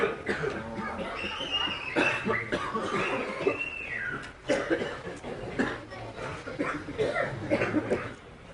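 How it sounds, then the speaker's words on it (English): Repeated coughs and throat sounds break through a murmur of voices and soft chuckling during a kirtan in Vrindavan, with people talking throughout. "It is a coughing kirtan."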